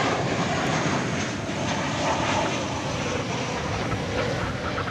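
An Airbus A340-200 jet airliner at DFW Airport gives a steady, loud, broadband engine roar that holds evenly throughout, with no talk over it.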